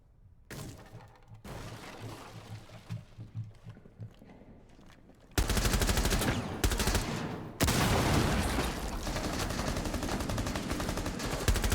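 Gunfire and explosions from a shooter video game: scattered bursts of shots at first, then a sudden loud, dense barrage of rapid automatic fire and blasts that keeps roaring without a break, with no talk.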